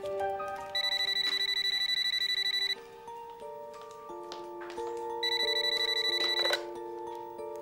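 A telephone rings in repeated electronic trills, a steady melodic ringtone pattern with short pauses between bursts, fairly close and clear, with no talking.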